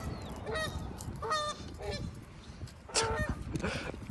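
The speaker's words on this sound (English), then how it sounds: "Now the geese are fighting." Geese honk in several loud, harsh bursts while fighting, spaced irregularly over a few seconds outdoors, with steady background noise and no talk.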